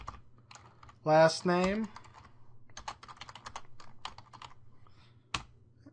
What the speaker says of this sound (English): I'm going to type in first name test,